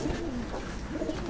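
Pigeons in a loft coo steadily at close range, low soft calls repeating over a constant murmur of birds with no talk.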